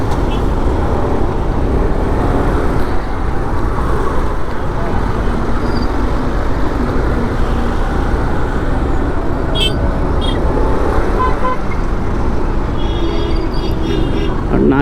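An Aprilia motorcycle is ridden through hot, busy city traffic, giving a continuous close roar of engine and wind, with surrounding vehicle noise and a few brief high tones partway through.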